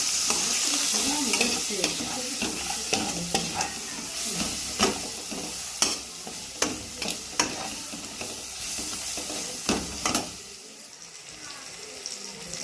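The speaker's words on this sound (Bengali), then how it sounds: "এবারে ভালো করে এটা কষিয়ে নেবো" Spices, including cardamom and cinnamon powder, sizzle and fry in a hot pan, stirred with repeated sharp scraping clicks of a utensil against the metal, close by.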